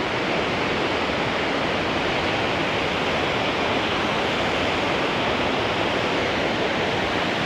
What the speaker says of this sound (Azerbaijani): Simpamid şəlaləsi.